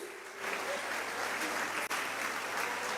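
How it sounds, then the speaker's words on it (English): Sustained applause from the audience at a distinction awards ceremony for top WASSCE students, steady and full throughout, with one brief dip. "A round of applause for Chief."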